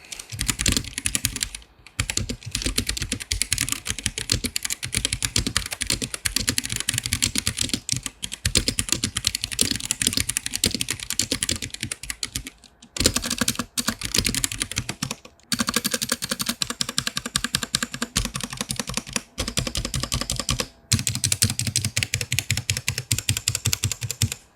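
Dense, continuous typing on a Womier K mechanical keyboard with stock stabilizers, rapid clacky keystrokes close up and loud, broken by a few short pauses, no talking.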